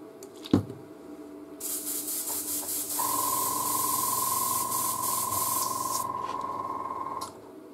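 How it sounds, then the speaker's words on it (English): An airbrush being cleaned by spraying cleaner through it, giving a steady close hiss that starts after a sharp click and runs for several seconds with a thin whistling tone under it before cutting off. "so I'm going to clean my airbrush"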